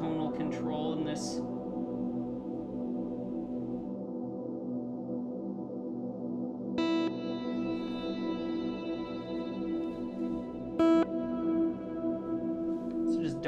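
A sustained guitar tone through a Void reverb pedal with a darkened, lush reverb tail that swells and rings on, with a couple of plucked notes cutting through.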